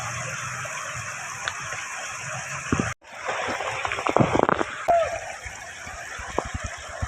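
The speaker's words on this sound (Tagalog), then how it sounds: "Lakas yung tubig yan." Strong floodwater rushing through flooded streets in Marilao during Super Typhoon Carina, a steady broad wash with some sloshing and splashing, a brief dropout partway through, and faint speech-like sounds mixed in.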